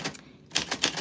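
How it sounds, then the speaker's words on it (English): Keys of a 1940s typewriter clack in quick, sharp strikes, a short burst, then a pause, then several more crisp hits close by with no voices. "what your name sounds like, Michelle, on a typewriter from the 40s"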